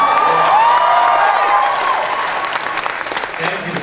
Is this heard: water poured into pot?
no